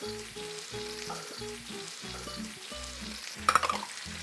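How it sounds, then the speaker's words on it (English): Chicken cacciatore with tomato fries in a pan while being stirred, a low, steady sizzle with occasional scraping and a brief clatter near the end. "Let it go. Let it stir up a little bit."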